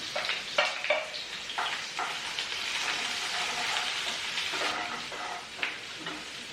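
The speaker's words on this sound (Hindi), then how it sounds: "तो ये प्याज मैंने भूनने रख दिए" Onions frying in a pan, an even crackling sizzle with scattered spatula stirs, close and alone.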